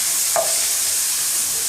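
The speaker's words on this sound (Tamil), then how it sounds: "பெரிய வெங்காயத்தை சேர்த்துட்டு நல்லா வதக்கிடலாம்" Steady, dense sizzling of large onions sautéing in a pan, with a brief stirring scrape near the start; continuous and fairly loud, no voices.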